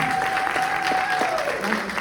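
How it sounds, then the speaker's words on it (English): Brief, steady round of applause from a film screening audience for a director, clapping under a sustained tonal whine, with a voice faintly in the mix. "Let's give him a round of applause."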